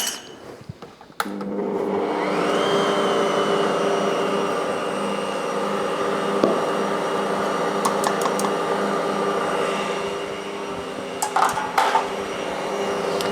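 A stand mixer runs steadily through sourdough hot cross bun dough spiced with nutmeg and clove, a continuous motor whir with a rising whine at the start and a few clicks and knocks near the end, no voices.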